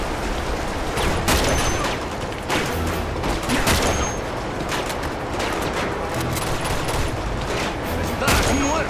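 Rapid bursts of gunfire and shotgun blasts ring out in an Uncharted 2 gunfight, dense and loud throughout, with someone speaking at times over the shooting.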